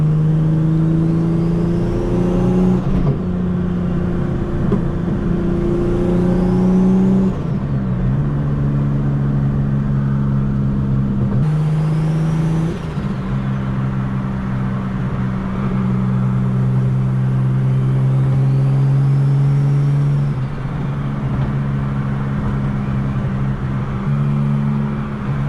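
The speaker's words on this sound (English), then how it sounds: "Let y'all hear some of this blow valve in here now with the windows up." Turbocharged Nissan Altima heard from inside the cabin with the windows up, the engine revving and dropping repeatedly while a turbo blow-off valve whooshes on each lift-off, loud and close, no talking.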